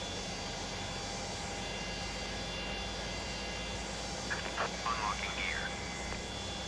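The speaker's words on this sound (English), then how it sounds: "I like the sound of those engines when they're actually running" Boeing 727 jet engines run steadily after start on a cargo flight, a constant whining drone heard from the cockpit, with brief low speech near the end.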